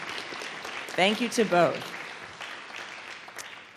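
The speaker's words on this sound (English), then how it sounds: "I hear a smattering of applause. Yeah, let's give them a big hand." At a Portuguese and Lusophone-world lecture series, a scattered round of audience clapping runs beneath a speaker's brief thanks, fairly light and tapering off toward the end.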